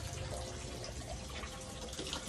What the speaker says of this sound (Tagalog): Nagpundo ko og tubig kay manglaba.